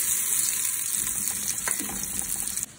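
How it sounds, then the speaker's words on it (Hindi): Onions frying in a little oil in a pan while cooking the first sehri of Ramzan, a close, steady hiss and sizzle with light stirring scrapes that cuts off abruptly at the end. "और अभी डालते हैं जी थोड़ा सा ऑयल। मेरे हिसाब से पहले हमारे लिए प्याज अंदर"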